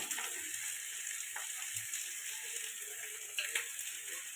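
Chili and cumin powder masala fries in a pan for a fish curry, a faint, steady hiss with a few light stirring touches.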